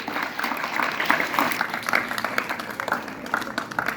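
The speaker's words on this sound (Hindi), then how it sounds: "तो तालियों से स्वागत करें" Applause welcoming a student at a school's Independence Day celebration, a steady round of clapping from a sizeable crowd, dense and even, with a few louder claps rising out of the wash.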